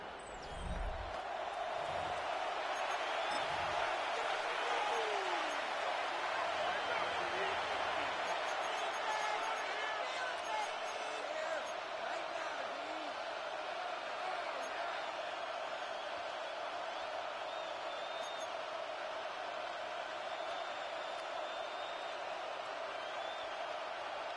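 A stadium crowd in an EA Sports NFL video game broadcast on Thanksgiving Day roars steadily throughout, a dense, loud wash of cheering with faint bounces and thumps underneath.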